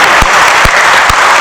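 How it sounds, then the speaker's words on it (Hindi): Loud, dense applause from the crowd at a Hindi patriotic poetry recital, a steady wash of clapping close to the microphone, broken by three sharp low thumps spaced about half a second apart. "एक बार तालियां उठाइए,"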